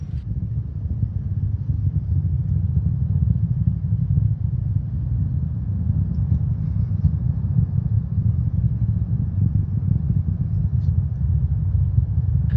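Proton M rocket first-stage engines late in the burn during the Nauka module launch, a steady deep rumbling roar, continuous and unbroken for the whole stretch with no voices.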